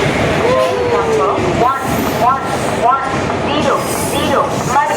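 The Madgaon–Lokmanya Tilak Terminus Express rumbles at a railway platform, its wheels squealing in high bending tones over steady train noise, while a public-address voice announces underneath.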